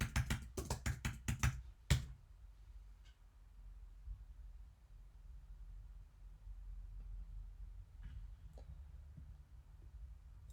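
A computer keyboard clatters with a quick burst of loud, close keystrokes for about two seconds, then the room falls to a low hum with a few faint scattered clicks.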